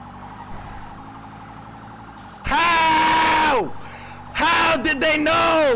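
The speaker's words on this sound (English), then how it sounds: "I hear sirens." Loud police sirens from the video game GTA wail in two bursts over a low humming background, sounding synthetic and close, with quieter tones between the blasts.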